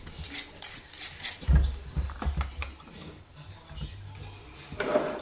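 Potatoes are peeled for a gratin dauphinois, with quiet scraping and clinking of a peeler and utensils against the potato and nearby kitchenware, irregular and close but faint.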